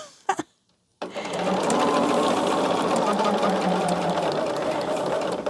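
A sewing machine stitches jelly roll Irish chain quilt pieces with nested seams. After a few brief knocks, it settles into a loud, steady, continuous whirring run that lasts to the end.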